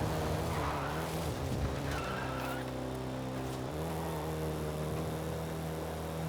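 Car engine straining in fourth gear, a droning hum that holds low steady pitches, wavers and jumps partway through, with brief skidding or tire noise early on, fairly close and without talk.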